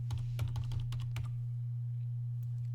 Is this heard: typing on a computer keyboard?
yes